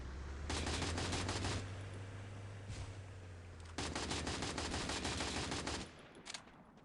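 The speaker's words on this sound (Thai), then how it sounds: "เอามาให้ลองลูกซองหน่อยดิ" Shotgun fire in Free Fire, two long stretches of rapid repeated blasts separated by a brief lull, loud and close over a low engine-like hum.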